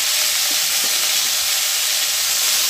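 Drumstick vegetables fry in a pan with salt and turmeric, a loud, constant close sizzle with a few soft stirring knocks and no voices.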